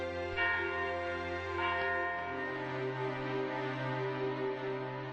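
A ringing bell used as a TV drama sound effect gives a few clear, resonant strikes that hang in long, sustained tones and slowly fade, heard alone without talk.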